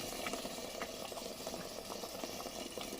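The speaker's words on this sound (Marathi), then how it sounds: "इकडे टोपामध्ये टाकलं आहे चिकन थोडंसं पाणी टाकलं आहे" Chicken with a little water simmering in a pot, a soft continuous bubbling and steady background noise throughout, quiet and close.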